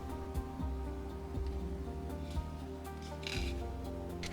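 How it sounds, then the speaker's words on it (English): Edges of a small plastic part for a 1/24-scale Tamiya Mazda MX-5 RF model are sanded by hand, giving close, soft rasping strokes in a steady back-and-forth rhythm over a low background hum. "I finally sanded the edges and corner for a smoother shape"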